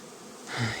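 Bees buzz up close, the drone swelling louder partway through.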